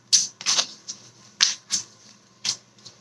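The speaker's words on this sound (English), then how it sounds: "Okay, 3 more shuffles" Cards being shuffled from a tarot deck during a reading, several quick papery riffling bursts spaced out over a few seconds, close and fairly quiet, with no talk.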